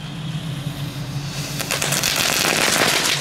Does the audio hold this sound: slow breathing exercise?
no